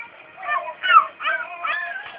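A child imitates a dog with a short series of whiny, yelping vocal barks, close and soft, heard alone.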